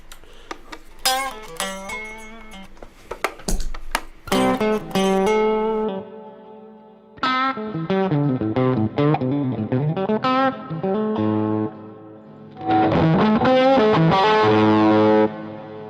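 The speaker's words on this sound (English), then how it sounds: "Got a lot of distortion on there. Too much distortion on there." Telecaster electric guitar played through a heavy distortion effect, loud sustained chords and note runs in bursts separated by short gaps, with no talking.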